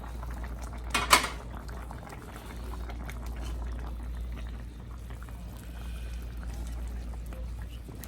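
A pot of Guyanese chicken curry bubbles and simmers steadily at close range, with a soft continuous boil and a brief metallic clink near the start.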